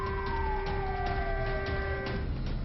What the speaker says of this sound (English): civil defense sirens went off in China